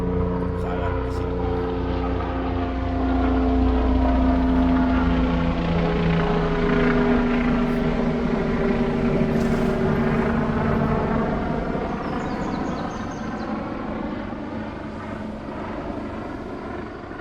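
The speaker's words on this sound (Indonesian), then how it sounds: "bentar pesawat di sini." A steady, loud engine drone of an aircraft passing overhead, holding for many seconds with a slowly shifting pitch, birds faint in the background.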